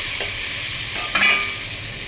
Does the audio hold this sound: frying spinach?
yes